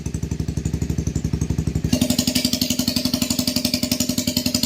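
A motorcycle engine idles close up through an exhaust fitted with a paper-fiber silencer insert, a steady rapid thumping pulse that turns noticeably brighter and hissier partway through, with no talking.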